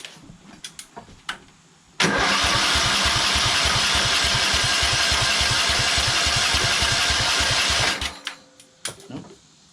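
Briggs 20HP engine on a Craftsman LT2000 lawn tractor cranks for about six seconds in a fast, even starter chug without catching, framed by quiet clicks and bumps before and after.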